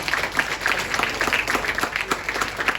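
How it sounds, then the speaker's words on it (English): An audience at a state-level wildlife protection award ceremony applauding, dense steady clapping from many hands filling the short span. "a big round of applause"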